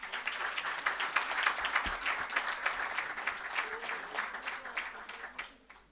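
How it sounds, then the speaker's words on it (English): A crowd at a moot court prize distribution ceremony applauds steadily, dense clapping from many hands filling the room, sustained and fairly loud before tapering off at the end. "A big round of applause for sir."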